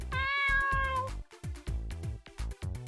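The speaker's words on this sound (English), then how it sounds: "you have to follow this cat" Cat meowing in an RPG Maker VX Ace game, a loud, clear drawn-out meow followed by several shorter repeated meows in quick succession, close and prominent with no talk.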